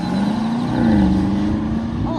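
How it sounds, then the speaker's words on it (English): A steady, smooth engine drone from a brand-new BMW on the track at the BMW Performance Center driving school, holding an even low hum throughout with slight swells in pitch. "Oh, I love that purring of that engine."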